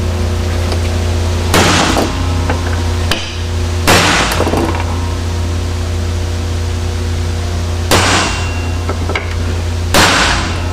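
A hammer strikes a steel center punch to mark drill holes in metal for a custom turbo mount on a 6.9 IDI diesel, four sharp loud blows spaced a few seconds apart over a steady shop hum.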